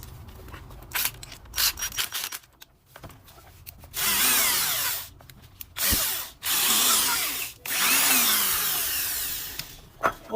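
A power drill buzzes in several loud bursts of a few seconds each, separated by clicks and handling noises, while a reverse-thread screw is fitted into a keyless self-locking chuck during a tool repair.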